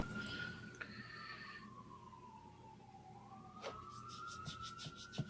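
Emergency vehicle sirens pass at a distance, several wailing tones sweeping down and back up over a quiet room, with a short yelp burst near the end; no one speaks.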